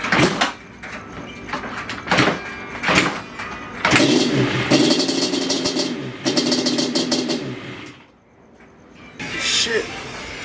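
A Yamaha Banshee ATV, a 100 hp quad with a blown head gasket and pouring smoke, cranks and catches in rough, uneven bursts, a close engine that sputters and then dies, with a person speaking over it.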